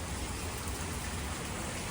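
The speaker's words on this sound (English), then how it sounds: "Well, it's raining, just like I thought it might." Steady rain falls on a garden, a dense, even hiss of drops with no pauses, fairly soft and constant throughout.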